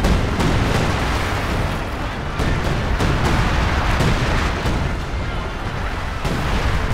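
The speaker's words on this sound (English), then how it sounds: "Oh, they've got artillery of some kind." A Company of Heroes 2 3v3 battle fills with booming artillery blasts and repeated sharp impacts over a continuous roar of combat. Players speak under the barrage.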